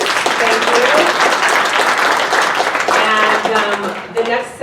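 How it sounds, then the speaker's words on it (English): Audience at a sustainability summit panel session applauds the panelists, a dense, steady wash of clapping through most of the clip, with voices and a speaking voice emerging toward the end. "So round of applause for our panelists."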